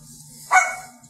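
A single short dog bark, moderately close, rising briefly over a quiet room hum with no one talking.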